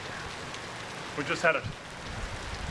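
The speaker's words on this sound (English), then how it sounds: "Now you can see the pouring rain and the bright sun" Pouring rain under bright sun during an isolated summer shower makes a steady, even hiss while someone talks over it.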